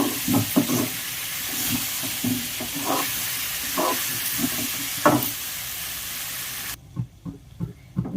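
Eggplant and mango tamarind curry is stirred in a sizzling pan. A steady frying hiss runs under repeated scraping stirs, and the sizzle drops away near the end, leaving a few louder scrapes.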